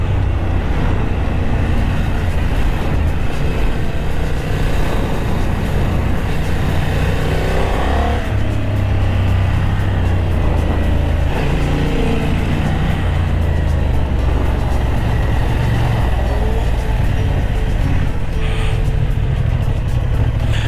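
A Honda CB750 Hornet motorcycle runs on a riding track, its engine note loud and continuous with shifting pitch as it accelerates and leans through corners, mixed with steady wind rush.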